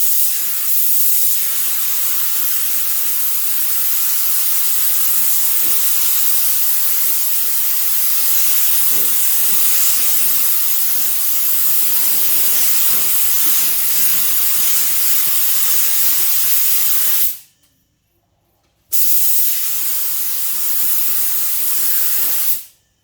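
Steady, loud hiss of a spray gun laying another coat of matte F8 Green paint on a Dodge/Chrysler car, running continuously for long stretches with a brief pause before resuming.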